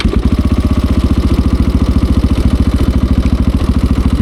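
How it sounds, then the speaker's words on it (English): KTM 690 Enduro single-cylinder engine idling close by, a rapid, even thumping pulse that repeats steadily and loudly, with no talking. "You can hear that single cylinder just thumping away."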